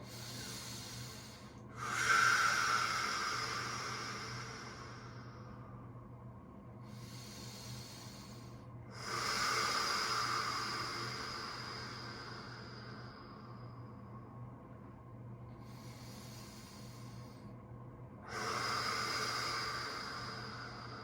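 Deep, slow breaths during a yoga pose, four long hissing exhales spaced several seconds apart, close and fairly quiet against a low steady hum.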